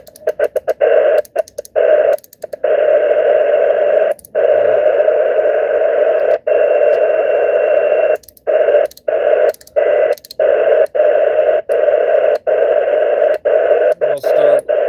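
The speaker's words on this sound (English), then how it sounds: "bands are open. I hear FT8." Steady multi-tone FT8 digital mode signals received on an amateur radio as the bands open, forming a continuous warbling hum that is repeatedly chopped by brief dropouts, heard alone and fairly loud.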